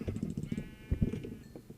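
Sheep bleat in Minecraft, a series of short, blocky bleats repeating in quick bursts at close range, with no talk over them.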